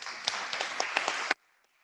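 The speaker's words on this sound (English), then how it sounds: "I think we can, another round of applause." A conference audience at a space-business event gives a short burst of scattered clapping that stops abruptly after little more than a second, leaving near silence.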